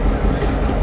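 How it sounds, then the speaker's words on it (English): A heritage railroad locomotive at a Tennessee museum eases in reverse toward the train to couple up, a close, loud low rumble with faint rail clatter. "He's going to reverse into the train to couple up and pull us back to Grand Junction."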